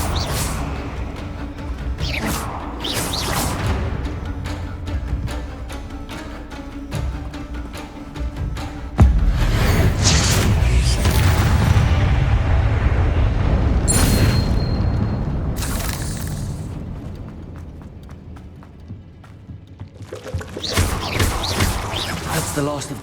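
A Confringo blasting curse explodes in Hogwarts Legacy with heavy booming bursts and crashing impacts, dense and loud over game music, with voice lines between the blasts.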